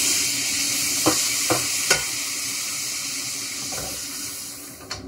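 Tomato goes into a sizzling pan of chili pepper for swordfish puttanesca, a continuous bright frying hiss broken by a few sharp clinks of stirring utensils against the pan, close and fairly quiet, without speech.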